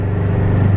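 A steady low BMW M5 engine rumble with a deep, even drone, close and fairly loud, no voices over it.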